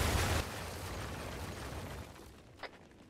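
Mortar explosions in the military video game Arma 3 land with a loud burst of broadband noise that decays into a rumbling tail, followed by a few faint sharp cracks.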